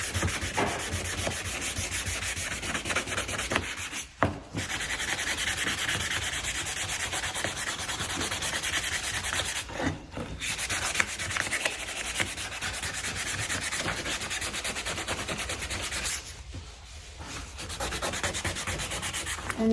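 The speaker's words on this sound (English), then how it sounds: "I'm just going to hang on to it and sand one side at a time" Wood being hand sanded with sandpaper, a close, steady rhythmic rasp of rapid back-and-forth strokes that runs continuously, broken by three short pauses as one side is finished and the grip shifts.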